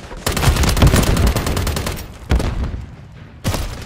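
Automatic gunfire bursts out in Call of Duty: Modern Warfare 3 multiplayer on the Tokyo map, three loud, close, rapid-fire volleys with short pauses between them.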